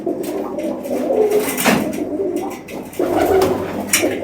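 Pigeons coo nearby in low, rolling calls, several overlapping phrases repeating with brief pauses between them.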